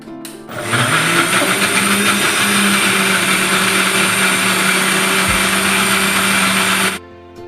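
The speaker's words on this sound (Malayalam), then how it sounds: "ഇനി ഇത് മിക്സിയുടെ ജാറിലേക്ക് ഒഴിച്ചു കൊടുക്കാം" A mixer grinder whirs steadily as it blends cooled, cooked carrots in its jar. The loud, even motor drone starts abruptly, holds for about six seconds and then cuts off, with no talk.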